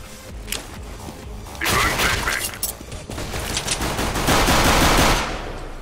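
Bursts of automatic gunfire in a first-person shooter video game, rapid close volleys and sharp single shots in uneven clusters, with loud sustained firing toward the end.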